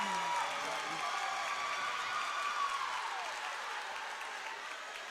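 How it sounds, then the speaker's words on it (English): A state high school volleyball crowd applauds and cheers in a gym, the sound fading slowly, with a commentator talking over it. "Hear the energy of this crowd."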